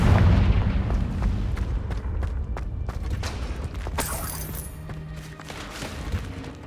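Confringo blasting spell explosions in the Hogwarts Legacy video game, a series of loud booming blasts with crackling impacts over a heavy low rumble, the bursts repeating irregularly and staying close and forceful throughout.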